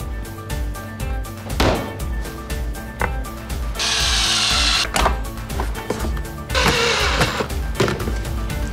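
Floating shelf being hung on a wall with power tools: bursts of drilling or driving into the wall and wood, with knocks and handling clatter between them, close up and with no speech.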